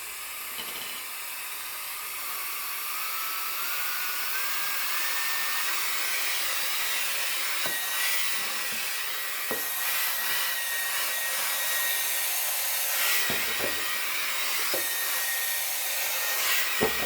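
A MECO air duster runs in suction mode, giving a steady, high-pitched whooshing hiss that holds for the whole stretch, with a few faint clicks and bumps.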